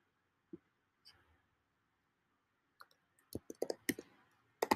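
A computer mouse clicks in a spreadsheet with sparse, faint isolated clicks, then a quick cluster of sharper clicks near the end, against near silence.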